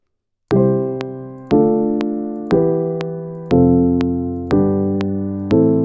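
Six keyboard chords ring out one after another at an even, unhurried pace, each struck cleanly and left to decay before the next.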